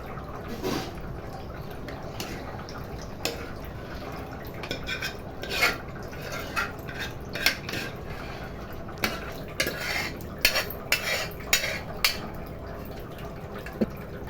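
Mashed dal stirred into boiling sambar in a metal pot, with soft bubbling under irregular clinks and scrapes of a spoon against the pot, fairly quiet and close, with no talk.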